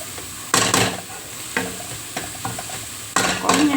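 Chili and onions frying in oil, a hot sizzle with loud bursts of scraping and stirring at intervals, close and alone.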